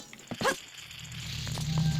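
A dog at the dog race in Zelda: Majora's Mask 3D video game gives a short, faint yip or whine, followed by quiet game background noise and light pattering.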